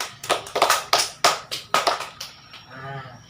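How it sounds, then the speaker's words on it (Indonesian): Classroom applause, a short ragged burst of hands clapping close by, with several distinct claps over about two seconds before a faint tail. "Ya, tepuk tangan."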